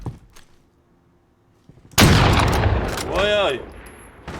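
Gunfire in the shooter game Call of Duty Warzone: after near silence, a loud sudden burst of shots hits hard and rumbles on with a whooshing tail. A voice gives a brief exclamation.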